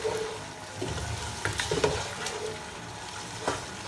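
Chicken chow mein being tossed with soy sauce and chili sauce in a hot pan, a low sizzle broken by irregular stirring clatters and scrapes, no voices.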